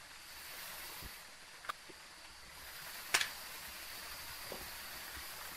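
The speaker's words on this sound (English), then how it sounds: "Yeah, this is heavy rain." Steady broadband hiss of heavy rain in Phasmophobia fills the background, with a few faint scattered clicks and a brief sharp crackle partway through; no talking.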